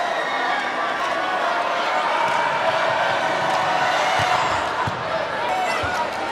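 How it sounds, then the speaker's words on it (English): An arena crowd at a women's college volleyball match, Washington at ASU, keeps up a steady restless murmur of disapproval over a line call, with a commentator talking over it and a few ball thumps. "Crowd doesn't like it."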